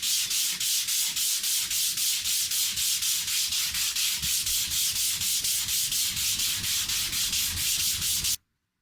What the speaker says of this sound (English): I'll sand that a bit finer